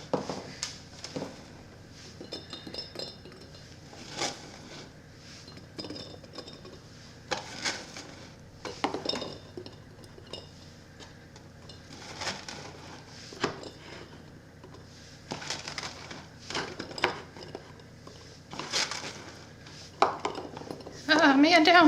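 Small round cucamelons are packed into a glass jar for quick crunchy pickles, giving scattered light clinks and taps against the glass at an uneven rhythm over about twenty seconds, close and fairly quiet.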